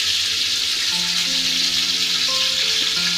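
Mustard seeds splutter in hot oil in a home kitchen pan, making a dense, loud, continuous sizzling hiss close by, with steady tones running beneath it.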